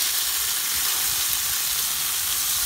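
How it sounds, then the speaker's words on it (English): Squid pieces fry in hot oil in a pan for Greek-style squid, giving a steady, close, bright sizzling hiss with no break and no talking. "the oil's quite hot. I'll let it keep on frying on this side."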